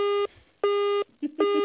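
A telephone busy signal gives loud, steady buzzy tone bursts, three pulses separated by short gaps, with a faint murmur of voice in the pause before the last tone.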